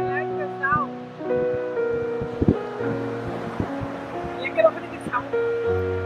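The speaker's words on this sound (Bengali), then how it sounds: "ওই সমুদ্রের শব্দ অনেকদিন পর।" Ocean waves wash onto the beach at Gulf Shores as a steady, low surf hiss that sits mostly beneath near, continuous conversation from adults and a child.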